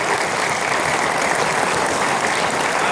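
Sustained crowd applause at the NARAM-56 awards ceremony, dense and steady throughout, with no voices over it.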